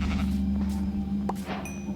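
A sheep bleats in the Minecraft video game, a short in-game animal call heard over a steady low hum and other game noise, with no talking.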